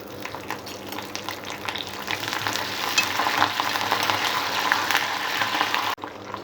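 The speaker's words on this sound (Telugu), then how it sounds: "ఆయిల్ వేడైన తర్వాత తాలింపు గింజలు, ఎండుమిర్చి, పచ్చిమిరపకాయలు, కరివేపాకు వేసుకోవాలి." Mustard seeds, dried red and green chillies and curry leaves frying in hot oil for a tempering, giving a steady, close crackling sizzle that holds for about six seconds and then cuts off abruptly.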